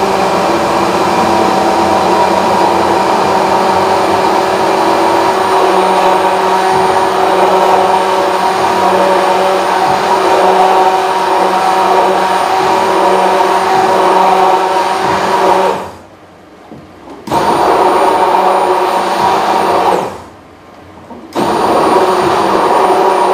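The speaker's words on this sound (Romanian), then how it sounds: "să punem mixerul nostru chiar până jos în pahar și începem încet, încet să urcăm cu el și să mixăm" A hand blender whirs in a glass as it mixes vegan cream, a loud continuous motor drone that cuts out briefly twice near the end before starting again.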